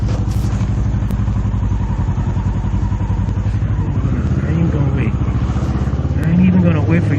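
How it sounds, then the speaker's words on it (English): A 2019 Kawasaki Z650 naked motorcycle fitted with an Orion aftermarket exhaust rumbles steadily on a city street, its engine note loud and close throughout with a slight rise near the end. "I got an aftermarket exhaust by Orion"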